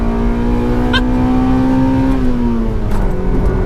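A 2000 Honda Civic Si EM1 engine revs hard and close into VTEC, its pitch climbing steadily before shifting tone as it pulls higher, loud and continuous.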